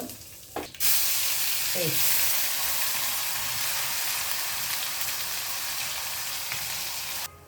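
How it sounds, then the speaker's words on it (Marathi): Mustard seeds, cumin and asafoetida sizzle in hot oil on a lowered gas flame for a jackfruit-seed curry, a loud, steady, close hiss that bursts in after a brief clatter and holds until it cuts off. "मोहरी घालूया बघा मोहरी तळतळली की जिरं घालायचं"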